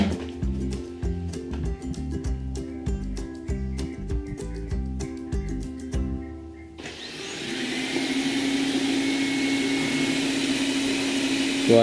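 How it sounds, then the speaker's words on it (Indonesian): Xiaomi Mijia 1C robot vacuum cleaner switching into turbo mode: a steady, loud broadband whoosh of the fan rises abruptly partway through and holds, after earlier tonal clattering background sounds. "Suaranya seperti ini, kalau yang turbo."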